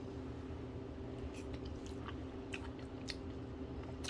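Soft, close chewing and biting sounds come from someone eating peach cobbler with a scoop of Bluebell vanilla ice cream, with faint moist squishes and small clicks over a low steady background hum.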